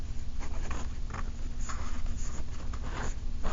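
Pen or pencil writing on paper while working a calculus problem, a close, steady scratching with short strokes throughout and no talking.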